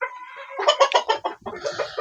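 A flock of poultry-farm chickens clucks and cackles nearly nonstop, a dense run of loud overlapping calls close by with a brief dip before the clucking resumes. No speech.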